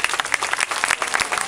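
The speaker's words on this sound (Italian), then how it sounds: "Applauso a Roart." Audience applause at an award ceremony, a brief, dense burst of many hands clapping evenly, heard on its own without talk.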